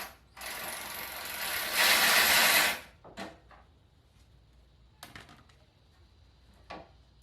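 Bolt being tightened while test fitting turbo pipes, starting with a loud sustained rasping burst and moving to a few sharp clicks and knocks that fade to near quiet.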